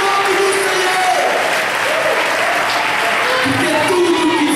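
A church congregation applauds at an evening anniversary service, steady broad clapping filling the whole stretch while a voice keeps speaking over it.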